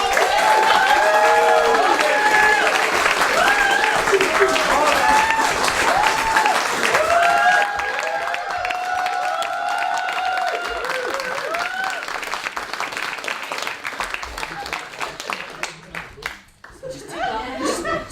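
A large crowd claps and cheers steadily, dense applause with shouts and whistles rising over it, gradually thinning toward the end.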